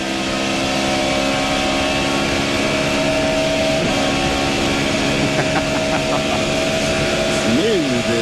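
Ricky Rudd's stock car racing at the Pocono 500, heard from an onboard position: a sustained engine drone with a pitch change as it shifts gear near the end, under commentators talking.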